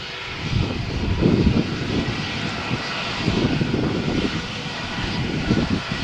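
Lufthansa Airbus A321 departing Malaga Airport runway 13 on a stormy morning: sustained loud jet engine roar with low rumbling surges that swell and ease, no voices.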